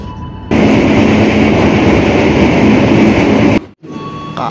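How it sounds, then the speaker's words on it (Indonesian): The KA Jaka Tingkir passenger train runs on rails at night in Indonesia, a loud, steady rumble close by inside the carriage that cuts out abruptly near the end before quieter ambience returns. "KA Jaka Tingkir kembali diberangkatkan dari stasiun Cirebon Prujakan jam 4 lebih 33 menit."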